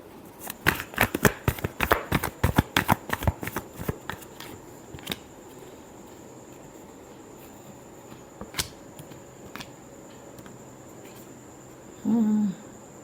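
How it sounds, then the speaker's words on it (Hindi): Tarot cards are shuffled by hand in a rapid burst of crisp riffling flicks during the first few seconds, followed by a couple of isolated taps and near quiet, with a short murmur of voice at the end. "Last shuffle."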